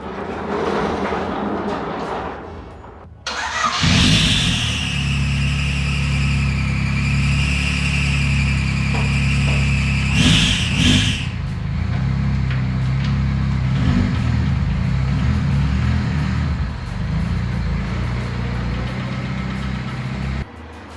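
A Honda car engine idles, then starts up loudly and runs with a steady low rumble as it is driven out, with a brief rise in revs partway through and a hum that holds to the end.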